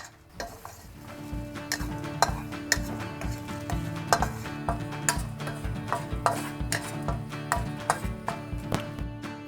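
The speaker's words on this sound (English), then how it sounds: "Put your pan over low heat and consistently stir." Dried chilies stirred in a pan over low heat, a utensil scraping and clinking against the metal in a steady, repeated rhythm over a soft continuous sizzle, close and fairly loud with no talking.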